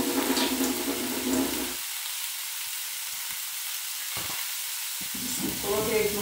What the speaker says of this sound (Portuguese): aqui no peito de frango, pessoal, vou adicionar um pouquinho de água